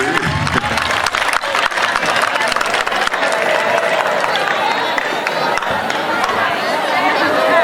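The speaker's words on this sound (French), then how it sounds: "Vous l'applaudissez." Welcoming applause from an audience at a live Senegalese baccalaureate review show, loud and sustained, with sharp claps over crowd chatter and cheering throughout.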